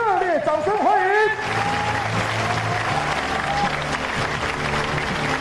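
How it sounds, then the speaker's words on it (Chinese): Warm, sustained applause from a ceremony crowd at the launch of a domestically built navy submarine program, filling the hall steadily after an announcer's voice briefly introduces it. "请热烈掌声欢迎"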